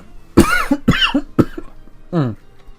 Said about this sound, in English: Oh, sorry, a bit of a cough coming.